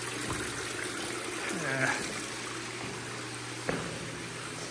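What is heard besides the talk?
Tosatsuboya Taki waterfall in limestone cave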